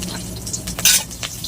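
Green chilies sizzling in hot oil in a pan while cooking a saag curry, a soft steady frying hiss with a brief louder crackle and faint stirring clinks, no talking.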